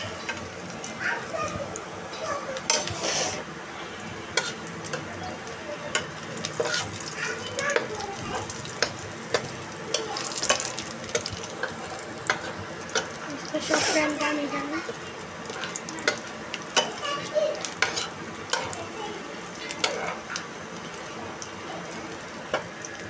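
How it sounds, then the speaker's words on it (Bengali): Leafy greens frying in a pan, a low steady sizzle with scattered clinks and scrapes from stirring, under ongoing talk in a home kitchen. "এখন তো শাক ভাজি করতেছি।"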